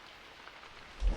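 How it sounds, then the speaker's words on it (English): Rain falls steadily in a soft, even hiss, ending with a dull low thump. "staring at the ceiling as the rain continues to fall"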